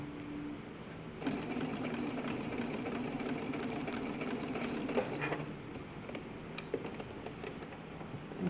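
A sewing machine stitching pleats on a homemade fabric mask, a steady close mechanical whir with a rapid needle chatter running throughout, a few small clicks and bumps along the way, no talking.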